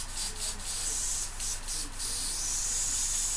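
Airbrush purging excess metallic paint while painting a Dreadknight miniature, giving a steady, close, bright hiss that runs throughout with a few brief stronger bursts.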